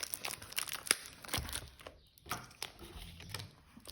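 A parcel of Japanese Pokémon cards, packed in cardboard and sealed with tape, is unwrapped close by, with crisp crinkling, tearing and scraping bursts in an uneven rhythm.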